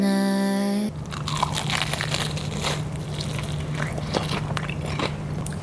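Crunchy cheesy stuffed onion rings bitten and chewed up close, a loud crisp crunch followed by repeated crackling chews with no talk.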